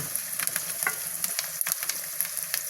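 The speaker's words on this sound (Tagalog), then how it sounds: "Halo-haloin natin hanggang maging light brown" Squid adobo sizzles and fries in a pan while being stirred, with steady crackling and spatter, scraping clicks from the stirring, and no talking.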